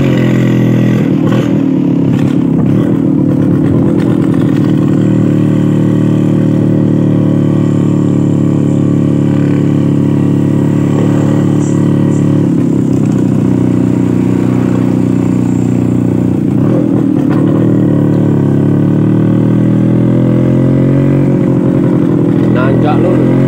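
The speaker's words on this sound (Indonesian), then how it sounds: "Knalpotnya putus jadi brot" A Vespa scooter with a broken exhaust drones loud and close on a touring ride, a rough, continuous low engine rumble with slight rises and dips in revs. Voices seem to talk faintly under the noise.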